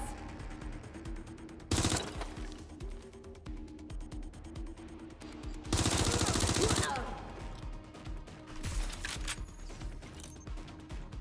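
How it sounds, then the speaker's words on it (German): Gunfire in the Watch Dogs Legion video game, two loud bursts of rapid automatic shots, one short and one longer, separated by quieter game ambience and a few faint scattered pops. "Ich bin unter Beschuss."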